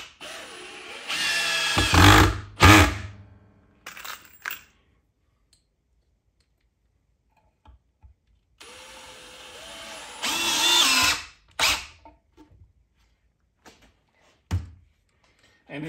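A power drill drives 2-inch pocket screws into wood through a pocket-hole jig: two loud bursts of whirring, each a couple of seconds long, ending in a quick thunk and clicks, separated by near silence.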